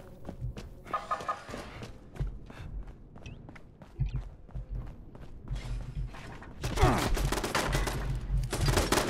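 Turret gunfire in Fallout 76 crackles in rapid bursts, sparse at first and then a dense, loud barrage near the end, mixed with footsteps and clattering.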